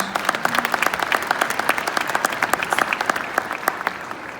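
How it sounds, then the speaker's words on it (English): Steady audience applause fills a room at a community gathering, dense overlapping claps sustained evenly throughout at close range with no voices on top. "round of applause to you"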